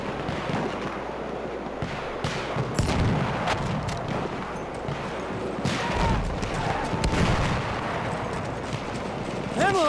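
Hunter shotgun blasts in Battlefield 1 boom amid dense battlefield gunfire and explosions, several heavy shots ringing out over constant combat noise, with a voice briefly heard in the mix.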